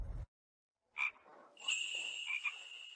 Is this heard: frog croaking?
yes